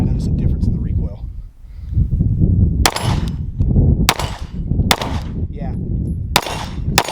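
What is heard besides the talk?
Sig P320 pistol gunshots with Go Gun gas pedal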